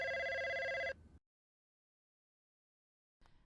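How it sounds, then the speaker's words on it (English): An old-style telephone bell rings loudly for about a second, then stops and leaves silence before a faint rustle at the end. "Oh, the phone woke him up."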